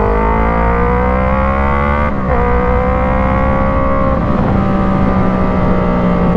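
Loud, close drone of a 2024 Yamaha MT-03 motorcycle fitted with an Arashi exhaust and dB killer, revving steadily with a rich harmonic engine note and two brief pitch dips, no talking.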